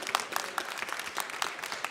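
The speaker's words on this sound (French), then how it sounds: "on peut applaudir les deux équipes" An audience at the Eurobot 2022 robotics competition claps for both robot teams after a match, a brief burst of scattered, moderately loud hand claps.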